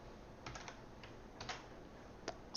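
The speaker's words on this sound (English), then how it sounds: "Now, when we type," Typing on a computer keyboard, a handful of soft, scattered keystrokes in an irregular rhythm, quiet and close with no voices.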